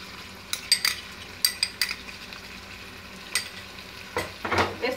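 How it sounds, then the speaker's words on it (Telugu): Spice powders (chili, garam masala) and ginger garlic paste frying in a pan for cauliflower masala curry, with a quiet sizzle broken by several sharp clinks and scrapes of a spoon stirring. "కొంచెం ఫ్రై చేసుకోవాలి"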